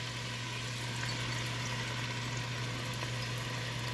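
Leeks and celery sautéing in a pan of oil, a soft, even sizzle held steady throughout under a low constant hum, with no talking.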